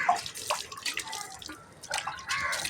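A vessel scrubbed with tamarind is rinsed under running water, with close splashing and dripping in uneven bursts and a brief lull in the middle, with no talking.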